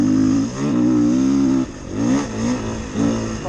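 A Beta 350 RR Race Edition dual-sport motorcycle engine revs loudly and close, three or four rising and falling throttle blips with a buzzy tone.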